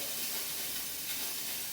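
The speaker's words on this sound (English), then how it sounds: "just enough so that you can see the steam coming out of the boiler" Steam hisses out of the cracked-open boiler valve of a McCulloch 1375 steam cleaner used for car detailing, a steady, even, fairly soft hiss with no break and no voices.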